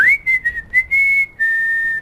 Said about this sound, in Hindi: अरे सीटी मत मारो यार